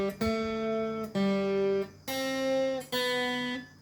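Opening bar of Happy Birthday picked on guitar: four clear sustained notes in a slow, even rhythm, close and moderately loud, each ringing out before the next, with no talking.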